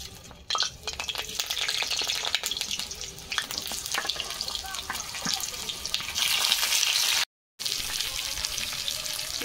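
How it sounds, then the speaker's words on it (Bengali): Potatoes frying in hot mustard oil in a kadai give a broad steady sizzle with clatters of stirring, loud and close, followed by a brief dropout and then the sizzle resuming. "কড়াতে সর্ষের তেল দিয়ে দিচ্ছি, আলু ভাজবো।"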